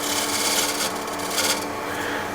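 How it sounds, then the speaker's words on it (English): A spear point scraper rasps steadily against wood, working into a corner in short, close strokes with a dry, gritty texture and no voices. "I'll use just again spear point scraper just to get a little scrape right in the corner"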